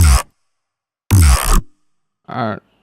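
Three short, thick growling synth bursts separated by silence, the last one thinner and quieter, each with a gritty, vocal-like wobble.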